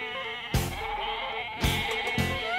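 A baby goat on a farm pasture during goat yoga bleats loudly three times, each a sharp wavering cry close by with quiet gaps between.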